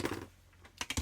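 A craft knife slices through a card base for a handmade Easter card, a few quick, close, crisp scraping strokes near the end after a quieter stretch.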